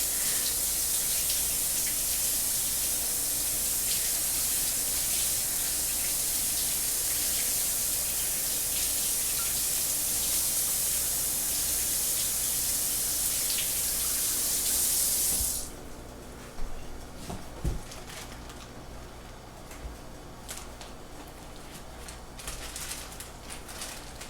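Steady rushing water pours from a tap into a sink for about fifteen seconds, then stops, leaving faint room noise and a few small knocks.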